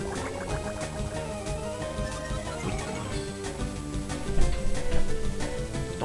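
Waterfall (Cascade) move effect in Pokémon Emerald, a dense rushing, splashing water sound under busy game music, swelling louder toward the end.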